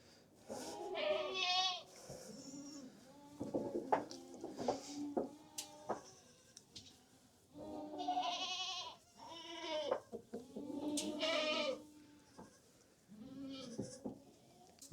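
Several goats bleat on a cold farm where they lie in hay, calls coming in repeated bursts with pauses between, fairly close and clear, with no talk over them.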